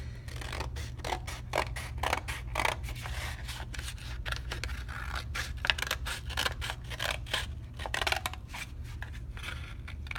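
Scissors snipping through two sheets of folded paper while cutting out a heart shape, a quick irregular series of close, crisp cuts and rustles with no voices heard.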